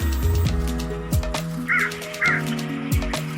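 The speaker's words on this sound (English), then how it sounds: "The second bird is Crow." A crow caws several times in harsh, rasping calls, loud and close, with a few quick calls spaced across a few seconds.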